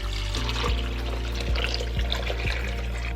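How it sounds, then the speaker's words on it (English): Water pours steadily into a crock pot of sautéed vegetables for ham and beans soup, a close, continuous liquid rush with a few soft knocks. "Now add in your water."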